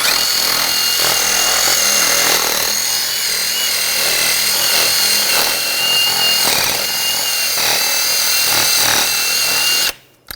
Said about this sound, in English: Take a wire brush. We just want to clean up any of the corrosion on the hub.